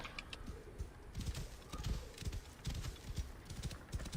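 Horse hooves clip-clop in a steady walking rhythm in Assassin's Creed Origins, close and fairly quiet over faint outdoor ambience with occasional bird chirps.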